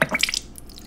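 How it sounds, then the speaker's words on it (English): Water draining from a portable washing machine, with wet dripping and splashing that is busiest at first and then thins to a quieter, steady trickle, close by and alone with no talk. "this is where I would just drain the water out and just wait"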